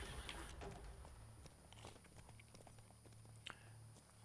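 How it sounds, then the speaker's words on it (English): Faint horse hooves clip-clop in an irregular rhythm over a low ambient hum, with a couple of sharper knocks midway, in the video game The Witcher 3: Blood and Wine. "Horse doing a runner, don't blame it."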